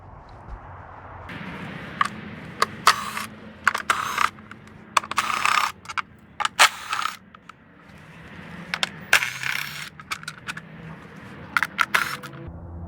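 Sharp metallic clicks and ratcheting from a tool backing out the 10mm bolts on the engine cover of a Honda Accord 2.4L K24W, in repeated close bursts separated by short pauses, with no talking.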